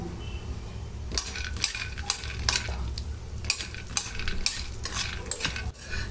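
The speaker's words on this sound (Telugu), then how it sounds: "వేరుశనగపప్పుని కూడా మాడిపోకుండా దోరగా మంచిగా ఫ్రై చేసుకోవాలి" Peanuts fry over a low gas flame, a soft continuous sizzle under a rhythmic run of metal spoon scrapes and clinks against the pan, close and fairly quiet, with no voices.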